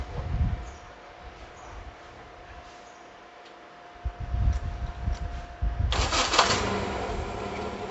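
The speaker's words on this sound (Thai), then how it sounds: "สังเกตว่าเครื่องจะเร่งขึ้น ดับเลยทีนี้" A Mazda 1300 with a carburetor runs roughly at a low idle, then revs up loudly and keeps running steadily, heard close up.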